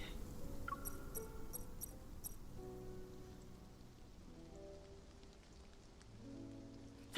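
Rain falls in a rainy-night scene of a romance video game, a soft steady patter beneath gentle chime-like musical tones and a sustained melody, faint and even throughout, with no voices.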